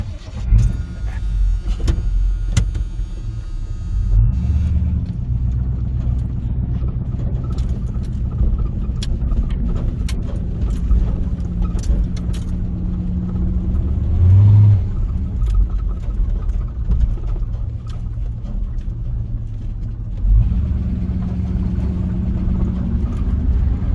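A 1983 square body pickup truck drives along on a test drive, its engine and exhaust giving a steady low rumble with a few swells in pitch, heard from inside the cab with no talking.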